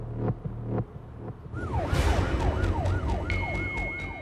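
A few horn-like honks, then an ambulance siren wails in repeated rising and falling sweeps over traffic noise, loud and close.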